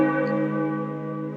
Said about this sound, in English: this bell tower